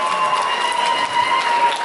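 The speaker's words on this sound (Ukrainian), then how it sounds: "Оплески, друзі, будь ласка, ось так от." Applause from a concert audience during a charity auction, a continuous wash of clapping at fairly high level with a faint steady tone running underneath and no speech on top.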